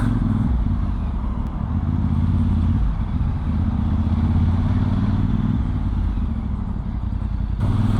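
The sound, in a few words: motorcycle riding through traffic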